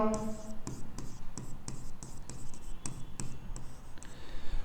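Marker or pen writing on a board during a lesson, a steady series of short scratchy strokes in a quick rhythm, close and moderately loud.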